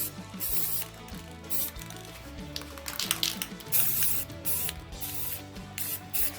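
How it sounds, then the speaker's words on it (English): A spray can coats Beskar armor pieces in black paint, hissing up close in a series of short bursts, with rattling and clicking between them. No one speaks. "I'm gonna be spray painting them"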